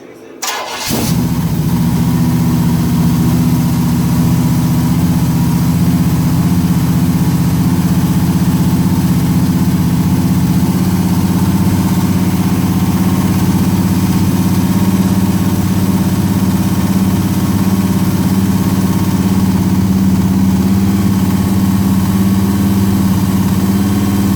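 A car engine fitted with LS1/LS6 valve springs on Vortec heads starts and settles into a steady, loud idle that runs unbroken and close up.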